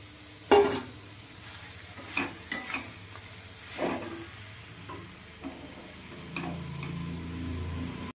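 Fried prawns, jackfruit and potatoes are tipped back into a pan and stirred together, with scattered spatula scrapes and knocks over a soft steady sizzle, growing louder near the end.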